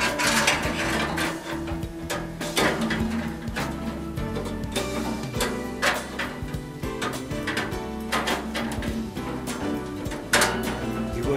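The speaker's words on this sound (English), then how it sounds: "put the blade back and make sure that the teeth always face downwards" Metallic clanks, ratcheting clicks and scraping from a meat band saw as its blade is fitted back in place, with teeth facing downward. Steady, close mechanical rattling with sharp intermittent knocks throughout.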